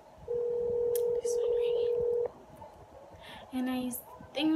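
A steady electronic telephone tone sounds for about two seconds, followed by shorter beeps, clear over faint background murmur.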